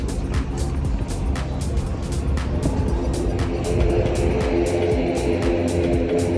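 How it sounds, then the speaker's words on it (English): Steady low engine rumble inside an airport shuttle bus carrying passengers from a remote gate to Terminal 2 at Dublin Airport, with a continuous hum and faint rattles throughout. "we needed to take a bus to the terminal"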